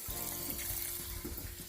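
A pressure cooker pot fills with water from a kitchen tap, a steady, close rushing stream with a low gurgling undertone that continues throughout.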